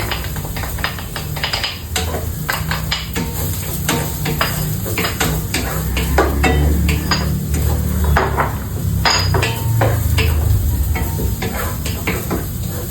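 Minced garlic sautéing with red onions and ginger in a pan gives a steady close sizzle, with clinks and scrapes of a utensil stirring throughout.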